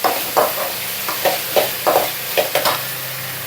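Ginger garlic paste fries in a pan for an aloo carrot rice lunch box dish, a loud close sizzle punctuated by about eight rhythmic scraping stirs, with no talking.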